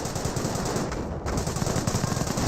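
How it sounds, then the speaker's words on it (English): Sustained MG42 and Bren machine gun fire in a Company of Heroes 1 battle, dense rapid bursts rattling continuously and loudly throughout, with no voices over it. "There's 2 Piets, 2 Brens, and 1 MG42 suppressing the entire group."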